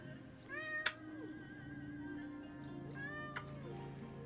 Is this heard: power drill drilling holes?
no